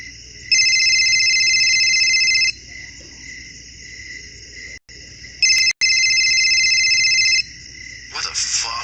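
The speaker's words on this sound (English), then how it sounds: "Who the hell is calling this late at night?" A cell phone ringing late at night, two long bursts of an electronic trilling ringtone separated by a pause, loud and close over a quiet background of insect-like night hiss.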